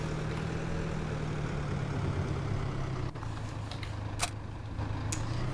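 A tractor engine in Farming Simulator 2017 idles with a steady low drone throughout, joined by a few brief clicks and taps from the game.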